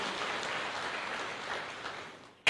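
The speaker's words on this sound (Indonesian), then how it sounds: "Berikan tepuk tangan yang meriah buat Tuhan." Church congregation clapping together in a steady, dense wash of applause that holds for a couple of seconds, then fades and breaks off abruptly.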